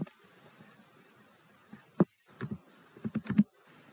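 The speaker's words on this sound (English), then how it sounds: "type the following formula, Google Finance, press tab, and type double quotation" A computer keyboard clicks as a Google Sheets currency formula is typed: a few quiet, scattered keystrokes, then a short run of quicker taps against a near-silent room.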